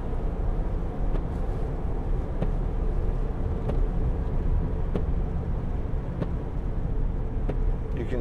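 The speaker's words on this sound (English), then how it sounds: "Diesel engine, what a great sound." Diesel V8 engine of a 2011 Range Rover TDV8 Vogue SE, a steady low drone while driving, with road and tyre noise and a few faint clicks over the continuous hum.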